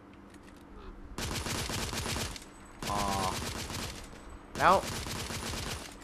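Bursts of enemy gunfire in The Order 1886, three dense rapid volleys separated by brief pauses, loud and close, with a short spoken word partway through.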